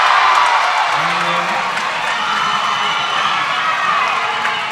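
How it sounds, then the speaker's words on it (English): Crowd cheering steadily through a women's college basketball gym after a three-point shot, a sustained loud roar with voices scattered in it. "The crowd loves Ellen Kett"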